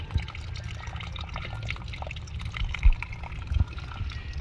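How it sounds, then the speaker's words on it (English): Water drains steadily from a leaking Orbit sprinkler head in a continuous, moderately loud wet gurgle with a low rumble underneath, broken by a few brief thumps. "this one's draining water for a long time"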